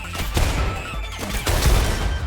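Video game gunfire rattles in dense, rapid bursts with booming impacts, two loud clusters of shots close together, with no talk over them.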